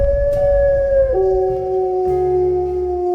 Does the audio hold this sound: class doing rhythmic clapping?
no